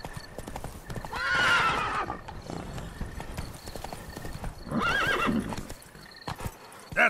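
Roach the horse gallops in The Witcher 3, hooves clip-clopping steadily up close, with a couple of loud whinnies and neighs breaking over the running rhythm.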